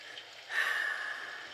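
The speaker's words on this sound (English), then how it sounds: "Excuse my sniffles, my allergy sniffles." Allergy sniffles, one sharp nasal sniff after a brief quiet pause, drawn in and trailing off, close and fairly soft.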